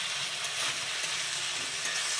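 Pre-fried long-cut potato strips dropped into hot oil and spices with a steady, moderately loud sizzle throughout, no voices over it.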